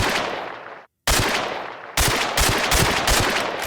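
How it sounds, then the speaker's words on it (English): Auto Mag pistol loaded with ramrod rounds fired in the Minecraft Scorched Guns 2 mod: loud, close, blasting game gunshots with a brief silent gap, then a rapid string of punchy shots with no talking. "you get yourself the Auto Mag, which uses ramrod rounds and does 15 damage"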